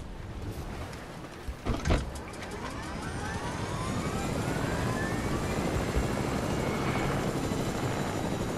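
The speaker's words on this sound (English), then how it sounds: "I'm going to get the other chopper." A helicopter in Fortnite flies close by with a steady rotor and engine drone, building and holding loud throughout, with a couple of brief thumps near the start.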